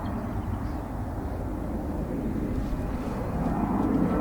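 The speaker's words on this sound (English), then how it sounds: "Plane's coming over, it'd be too noisy." Airplane passing overhead near a golf practice area, a steady broad roar that slowly grows louder over several seconds, with no speech.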